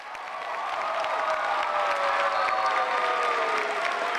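A theater audience at a year-end performance applauds the show's sponsors with steady, full clapping that swells quickly and keeps going without a break.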